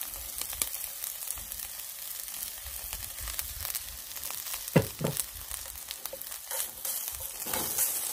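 Stir-frying soft shrimp paste with pork in a pan, with a steady close sizzle and scraping spatula strokes, plus a couple of louder clanks near the middle.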